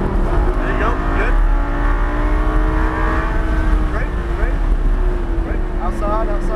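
Lamborghini Gallardo LP560-4 engine revs and accelerates on a race track, a loud droning note rising in pitch through several pulls, with an instructor talking over it.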